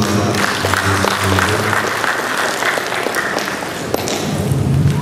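A seminar audience in Karimun, Riau Islands, applauds a regional representative, with sustained clapping and a few low voices murmuring underneath.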